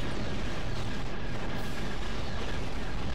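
Cannons on the Reaper firing in Star Wars: The Clone Wars (2002) video game, a dense, loud, continuous roar of booming blasts with no gaps, filling the whole stretch.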